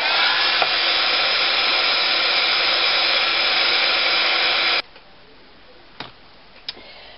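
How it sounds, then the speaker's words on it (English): Heat gun blowing for a craft resist technique, a loud steady rushing roar that cuts off abruptly after about five seconds, followed by a couple of faint clicks in near silence. "take your heat gun."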